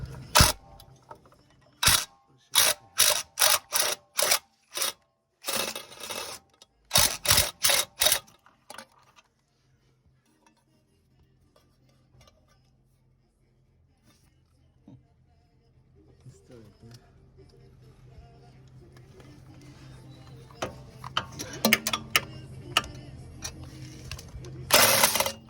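A ratchet on a long extension clicks in quick bursts of rapid pawl ticks while turning a clamp bolt near the steering rack and pinion of a BMW N54 car, followed by quieter rustling and low mechanical handling sounds.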